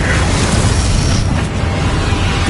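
Confringo blasting spell explosions in Hogwarts Legacy, a loud sustained roar of fiery bursts and rumbling booms filling the whole stretch without a break.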